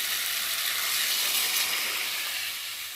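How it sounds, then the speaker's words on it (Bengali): Water added to fried masala in a hot pan, producing a loud, steady hiss and sizzle that holds evenly for a few seconds before easing slightly at the end. "এবার আমি পরিমাণ মতো জল দিব।"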